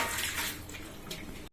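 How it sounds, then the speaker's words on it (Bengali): Water runs steadily while a few metal cooking pots and dishes are washed on a rainy morning, a soft continuous splash ending in a brief clatter. "এই কটা বাসন আমাদের এখন ধুয়ে নিল"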